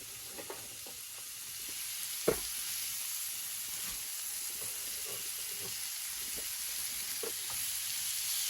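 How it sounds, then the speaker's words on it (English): Chopped onions sizzle in a hot skillet while cooking loco moco, giving a steady, fairly faint frying hiss broken by a few light crackles and pops, with no voices. "I'm going to take these onions and I'm going to throw them in my hot skillet."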